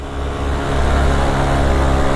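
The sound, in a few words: motorcycle engine revving uphill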